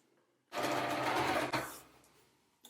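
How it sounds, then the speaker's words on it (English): Sewing machine top stitching a fabric seam, one close mechanical run of about a second that slows and fades, then a brief click at the end, no talking. "So now we're gonna sew on top of it."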